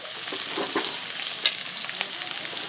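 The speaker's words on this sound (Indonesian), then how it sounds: "Tumis bawang putih" Garlic sautéing in a pan sizzles with a continuous close hiss, a fairly loud bright frying sound with faint light crackles and no talk over it.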